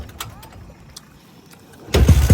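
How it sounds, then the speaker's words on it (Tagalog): Tricycle engine being started: faint clicks and rustles, then a sudden loud burst of engine noise that keeps running to the end, close by. "Kaya papaandar natin ng tricycle."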